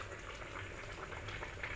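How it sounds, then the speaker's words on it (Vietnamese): A pot of gourd soup boils steadily, with faint continuous bubbling and light crackle heard close up and alone, with no voices. "Bên đây là cái nồi canh nãy mình nấu nè."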